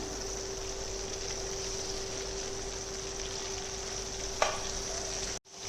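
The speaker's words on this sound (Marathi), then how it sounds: "तेलामध्ये फ्राय करून घ्यायचे आहेत व्यवस्थित असे दोन्ही बाजूने" Bombay duck (bombil) rolls shallow-frying in oil, an even steady crackling hiss held close and fairly quiet, with one brief clink near the end before it cuts off.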